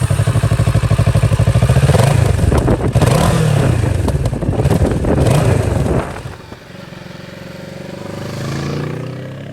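A 2022 Kawasaki Z650RS engine cranks and fires up close by, revving with a throaty, pulsing rhythm and mechanical clatter before settling back to a quieter idle.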